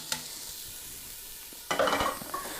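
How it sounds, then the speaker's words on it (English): Onions sautéing in coconut oil, a quiet hiss with a faint clink early, then a sudden burst of louder sizzling and stirring as the onions hit the hot pan, close and without talk. "we're going to start off with the good old classic onions, getting sauteed up"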